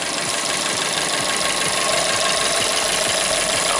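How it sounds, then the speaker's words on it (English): A Fiat 500's air conditioning compressor runs while a can of Freon is being charged in, giving a steady, dense engine-bay drone with a low mechanical rumble underneath and no speech. "you'll be able to hear the compressor kicking in"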